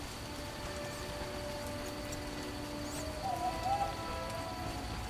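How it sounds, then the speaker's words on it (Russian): Heavy rain pours down in The Witcher, a steady, dense hiss of falling water with a faint bird call briefly rising over it, no talk. "это ливень."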